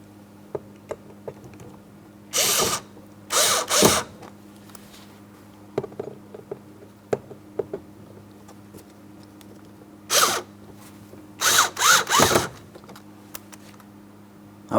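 A power drill snugs Phillips head screws into the front door of a 2003-2007 Cadillac CTS, several short whirring bursts separated by small ticks and handling noises against a low background hum.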